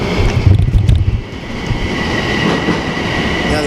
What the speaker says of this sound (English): The train's coming, the train's coming.